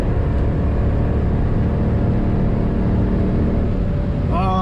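A Mercedes W204 C63 V8 drones loudly and steadily from inside the cabin on the Nordschleife while short-shifting to cool the engine, a continuous low rumble with no speech.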